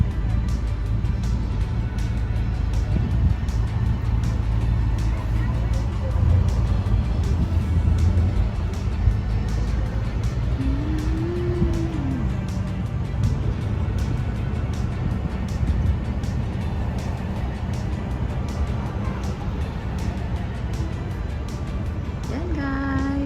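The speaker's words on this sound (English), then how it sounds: "the bus is moving" A city tour bus rolls along with a steady low engine rumble and road noise throughout, loud and constant, with faint voices and occasional small clicks and tones over it.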